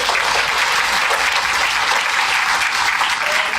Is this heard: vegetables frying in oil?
no